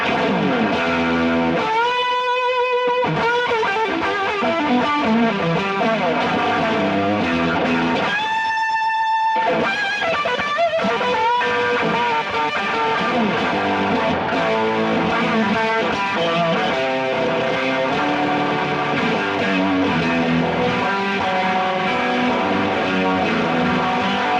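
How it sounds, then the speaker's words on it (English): A GFI System Synesthesia Dual Modulator pedal with fuzz added, playing a dense, continuous distorted tone with strong harmonics, sustained loud throughout with a couple of brief high bright swells, no voices. "And now let's go add a little bit of fuzz."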